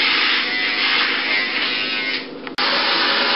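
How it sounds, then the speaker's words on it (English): Electric clippers buzz steadily and close while shaving a head, a continuous hum that dips and cuts off briefly near the end before resuming. "shaving the head. Just shave it all off."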